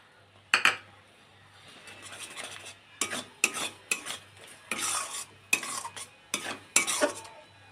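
A spoon scrapes and clanks through pickle masala in a pot after a little water is added, in bursts of sharp metallic stirring strokes separated by brief pauses, over a low steady hum.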